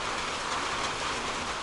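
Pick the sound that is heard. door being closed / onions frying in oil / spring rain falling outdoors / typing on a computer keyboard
spring rain falling outdoors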